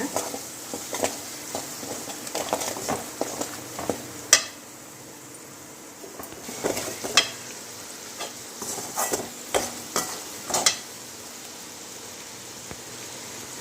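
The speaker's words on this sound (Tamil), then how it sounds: "அந்த எண்ணெயிலே ஒரு கிளறி கிளறி விட்டுக்குவாங்க" Chili powder being stirred in hot oil for a date pickle, with intermittent scraping and clinking of a spoon against the pan over a faint sizzle, close by, in bursts with a quiet pause midway.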